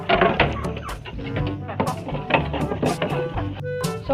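Chickens and pigeons cluck and coo busily around a feeding, with dense overlapping bird calls close by throughout and occasional background voices.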